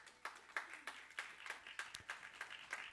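A church congregation claps in a quick, even rhythm during a service, a faint, steady pulse of hand claps.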